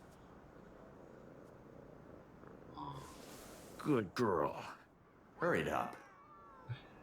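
A cat in the video game Ghostwire Tokyo meows several times while being petted, short close chirping cries in two clusters over a faint low background, with a person speaking quietly.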